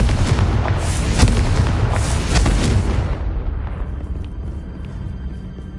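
A Confringo blasting curse explodes in Hogwarts Legacy: a loud, broad booming blast with crackling bursts that rumbles for about three seconds, then fades into a lower lingering tail.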